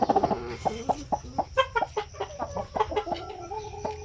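A brooding hen sitting on eggs in a backyard coop clucks in a steady run of short, close, harmonic calls, some sharper and some softer, with no talk.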